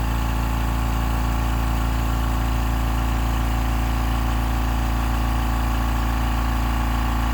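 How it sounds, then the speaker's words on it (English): A Master Force ultra quiet 2 gallon, 135 psi air compressor runs at a constant close hum with a steady motor drone, level and unbroken throughout, with no talking. "Builds up extremely fast"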